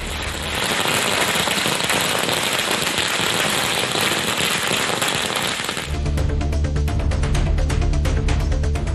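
Supporters set off firecrackers at a political campaign welcome in Tamil Nadu, a loud continuous barrage of rapid crackling bursts that shifts midway to sharper, more distinct pops.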